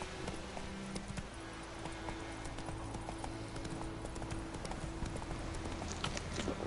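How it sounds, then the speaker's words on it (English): Roach the horse trots in Witcher 3, with a steady, even clip-clop of hooves running throughout at moderate level over a faint game ambience. "Whoa there, Roach"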